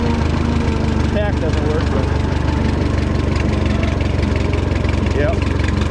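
Steady low diesel idle of a Kubota M5 tractor, close and loud, running evenly throughout while someone talks briefly over it.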